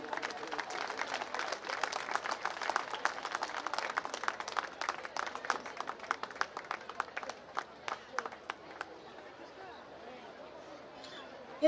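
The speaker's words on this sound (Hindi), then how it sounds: "जोरदार तालियां।" A hall audience at an annual community gathering in Bhilai, Chhattisgarh claps briskly while a memento is presented, with light chatter underneath. The applause thins out and fades after about nine seconds.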